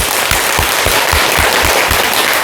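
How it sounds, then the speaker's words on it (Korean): A lecture audience gives a big round of applause: dense, loud clapping runs throughout, with regular low thumps pulsing beneath it at a quick, even rhythm. "큰 박수 부탁드립니다"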